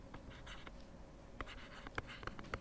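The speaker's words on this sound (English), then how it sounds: "there's a lot of typing" Typing on a keyboard during a physics quiz session, quiet scattered clicks that start sparse and turn into a brisk run of keystrokes, faint over a soft room hiss.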